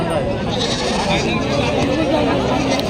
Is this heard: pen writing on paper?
no